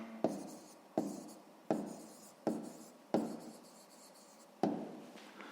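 A pencil writes down a math answer on paper, scratching in six short strokes, each starting with a sharp tap and fading out, close and alone.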